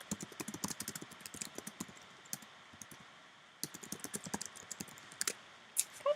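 Fingers type on a computer keyboard in quick irregular bursts of crisp clicks, close and fairly quiet, with a short pause in the middle before the typing resumes.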